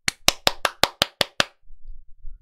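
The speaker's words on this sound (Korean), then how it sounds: "여러분들 박수! 박수!" A small group claps for about one and a half seconds, eight sharp, evenly spaced claps, close and fairly loud, then stops and leaves faint low rumble.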